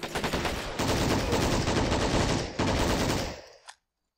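Sustained machine gun fire rattles in the Men of War: Assault Squad 2 battle, loud dense bursts with brief breaks, ending abruptly in silence.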